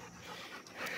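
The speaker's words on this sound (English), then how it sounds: "My dog's a service dog" A service dog pants quickly and softly at close range, its short rhythmic breaths faint over a noisy outdoor background.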